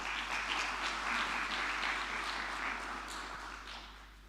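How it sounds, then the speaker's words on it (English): Soft, distant audience applause at a farewell program for HE Sunjay Sudhir, a steady rain of clapping over a constant low electrical hum, tapering slightly toward the end. "A big round of applause again."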